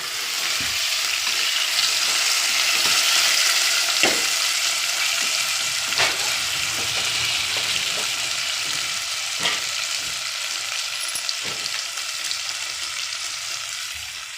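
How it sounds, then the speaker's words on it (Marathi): Masala frying in a pan while being stirred, a continuous close sizzle with occasional sharp scrapes and knocks of the spoon against the pan, no voices. "जोपर्यंत लालसरपणा येत नाही तोपर्यंत हलवून घेऊ आपण याला"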